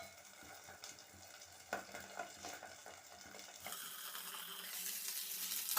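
Fish frying in a lidded pan gives a soft, steady sizzle that grows brighter and louder near the end, with no talking.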